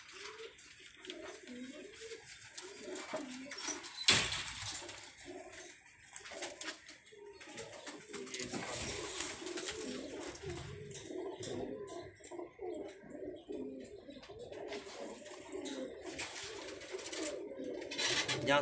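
Cooing pigeons at a Karachi pigeon fancier's loft keep up a steady, overlapping murmur at close range, with people talking over the birds throughout.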